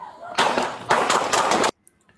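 Loud, close bursts of rapid gunfire crackle in two sustained volleys, then cut off abruptly, leaving near silence with a faint distant pop.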